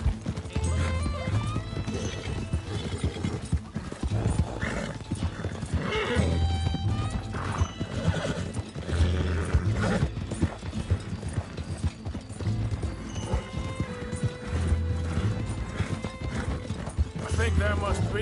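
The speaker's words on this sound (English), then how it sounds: "You've been taking good care of that horse." Repeated hoof clip-clops from a horse in Red Dead Redemption 2 with occasional neighs, a steady walking rhythm under ongoing game dialogue.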